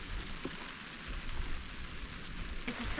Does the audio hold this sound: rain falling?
yes